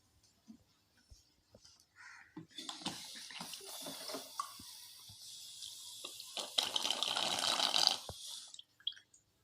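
Water gushes from a capped bottle in a classroom pressure experiment, a steady splashing flow lasting several seconds with faint talk before it starts.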